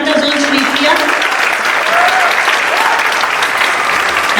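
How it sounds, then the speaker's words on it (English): Audience applauding a singer at a Carnatic music event, a sustained, dense round of clapping that fills the whole stretch at steady loudness with no break. "Please announce round of applause for Atlanta Zone Shri Priya."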